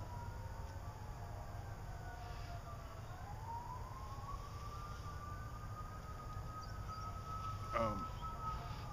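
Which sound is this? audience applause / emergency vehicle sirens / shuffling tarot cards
emergency vehicle sirens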